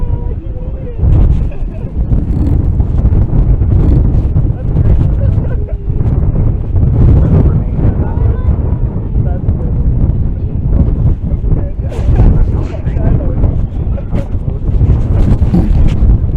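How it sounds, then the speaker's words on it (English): Strong wind buffets an outdoor microphone at a rocket launch broadcast site, a continuous loud low rumble with gusty surges throughout, and a voice talks faintly underneath at times. "It is quite windy indeed."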